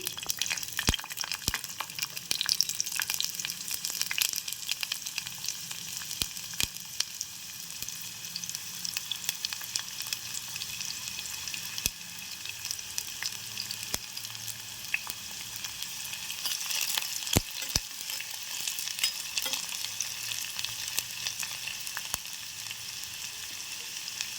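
Steady, quiet sizzling of onions frying in oil, with a few scattered clicks and scrapes, running continuously without any talking.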